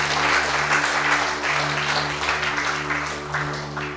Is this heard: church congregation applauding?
yes